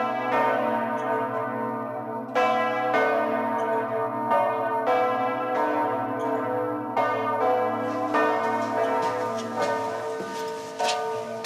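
Heavy cathedral bells swing at full peal in the twin belfry of Saint-Corentin cathedral in Brittany, overlapping strikes ringing loudly and continuously with long resonant tails.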